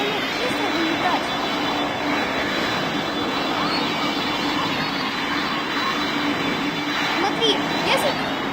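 An airplane engine in a video game roars steadily during takeoff, a sustained mid-level drone with a faint high whine running beneath it.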